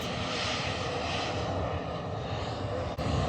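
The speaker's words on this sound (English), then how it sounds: "Sounds like the plane is turning, like the plane's engines are turning off." Airliner engines roar steadily at Manchester Airport, heard from a fair distance as a continuous broad rumble, with a sharp click near the end.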